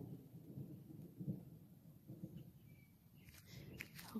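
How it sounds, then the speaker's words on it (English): Faint, low thunder rumbles in the distance during an evening walk, a soft continuous roll with a few light thuds, and a bird chirps briefly near the end. "A little bit of thunder, too."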